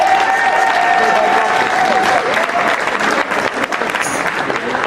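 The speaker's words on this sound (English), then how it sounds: "Let's have a round of applause." Sustained applause from an audience at a live Elvis tribute show, loud and steady throughout, thinning slightly toward the end with some crowd noise mixed in.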